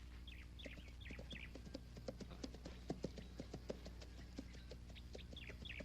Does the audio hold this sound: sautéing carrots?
no